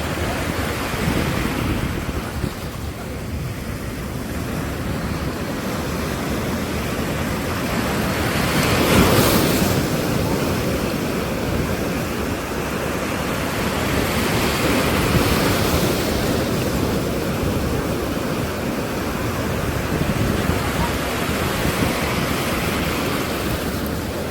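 Ocean waves breaking on a shore, a continuous roaring surf with slow swells rising and falling, mixed with wind noise and no voices.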